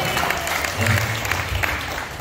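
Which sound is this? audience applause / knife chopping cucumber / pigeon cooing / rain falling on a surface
audience applause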